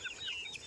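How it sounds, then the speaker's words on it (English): Soft, faint chirps and clucks come from a mixed brood of baby chickens and guinea fowl, a short burst of small high calls with no talk. "There's a mix of chickens and guinea fowl."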